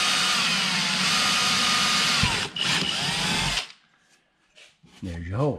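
A power drill with a quarter-inch bit bores a hole in a C7 Corvette front splitter, making a loud, sustained whine up close for about three and a half seconds. It then stops, leaving quiet followed by brief talking.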